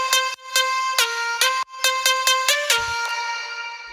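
Bright future bass vocal lead synths, bussed through EQ, reverb and multiband compression, play a choppy melodic line of short stabbing notes that ring into a reverb tail, clear and alone.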